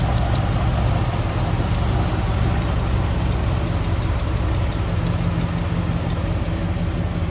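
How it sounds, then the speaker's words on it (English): A 1954 Ford Crestline four-door sedan engine idles smoothly and steadily, a constant low rumble with no change in pace throughout. "Smooth running engine, no doubt about that."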